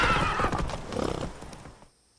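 A horse ridden in The Witcher 3 whinnies loudly, then its hooves clip-clop in a quick rhythm at close range before fading to near silence.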